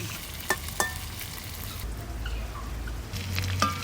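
Hilsa fish frying in a pan for a curry with taro, a close continuous sizzle broken by a couple of sharp scrapes and taps of stirring.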